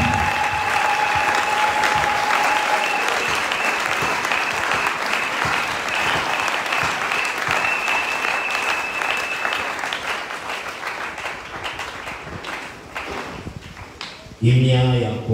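A church congregation applauds during a service, loud sustained clapping from many hands close by, with voices mixed in, tapering off near the end before a brief burst of other sound.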